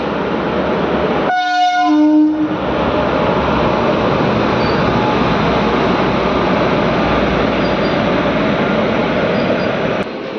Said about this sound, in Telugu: సెకండ్ నెంబర్ ప్లాట్ఫామ్లోకి వస్తుంది తిరుపతి గుంటూరు ఎక్స్ప్రెస్.